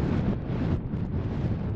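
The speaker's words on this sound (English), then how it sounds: "hope that I'm not kept awake too long with this wind" Strong night wind buffeting the microphone on a Scottish mountain top, a steady deep roar with gusty swells throughout, close and loud with no other sounds.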